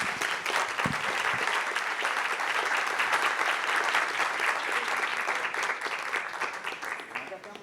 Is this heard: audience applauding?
yes